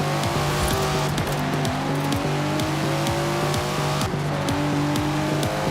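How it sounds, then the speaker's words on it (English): A modified Datsun in Forza Horizon 4 revs hard through repeated gear shifts, the engine pitch climbing and dropping in a rhythmic pattern, loud and continuous with a brief tyre squeal. "Never heard a Datsun sound like that, have you?"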